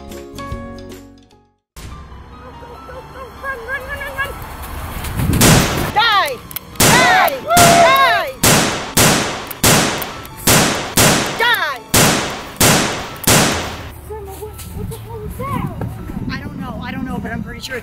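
Gunshots ring out in a rapid sequence of about nine loud, sharp reports with short echoing tails, preceded and followed by quieter voices and creature-like cries.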